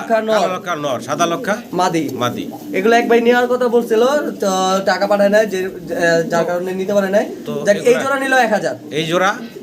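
Fancy lakkha fantail pigeons, white and black, coo in soft rolling calls, largely masked by close, loud talking that continues throughout.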